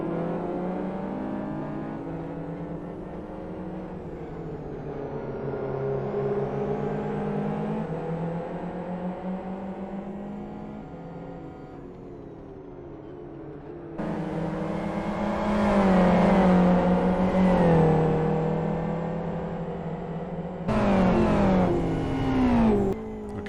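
Race cars in the driving simulator Live for Speed roar continuously, engines rising and falling through gear changes as several cars run close together, growing louder and denser toward the end with sharp bursts of revving.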